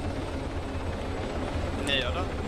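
A helicopter in the game Arma 3 Exile on Tanoa lands close by, its steady rotor drone filling the background under ongoing talk, with a brief whistling engine whine rising near the end.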